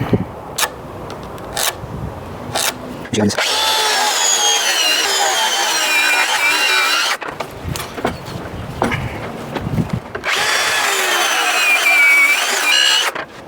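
Loud buzzing of a power saw cutting notches into a wooden deck beam in two long bursts, separated by clattering handling noises and pauses.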